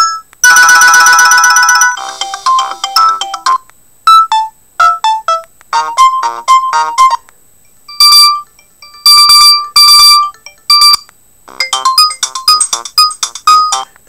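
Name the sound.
shrill ringtones of a Mobiho Essentiel Le Classic Facile 2 phone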